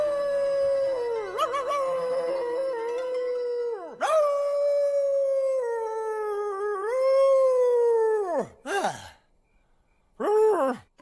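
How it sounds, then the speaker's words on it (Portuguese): Little wolves howl at night, long drawn-out wavering tones that rise and fall, several howls in close succession with brief pauses between them. "o uivo dos lobinhos pode ser ouvido na noite"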